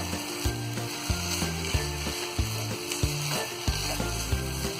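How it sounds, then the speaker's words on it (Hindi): Carrot halwa with milk being stirred and roasted in a pan over a high gas flame, giving a steady sizzle with rhythmic scraping strokes of the spoon repeating about every half second, close and clear with no talk. "तो अब यहाँ गैस को हम फिर से तेज करेंगे और लगातार चलाते हुए हम इसे भून लेंगे।"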